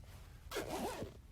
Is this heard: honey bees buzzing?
no